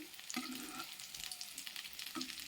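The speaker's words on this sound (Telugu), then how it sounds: "కలుపుతూ వంకాయల మసాలా అంతా రాకుండా కూడా స్లోగా తిప్పుతూ ఫ్రై చేసుకోండి" Stuffed brinjal masala fries and crackles in a pan while being slowly stirred, a steady close sizzle with scraping stir strokes at about 0.4 and 2.2 seconds, no voices.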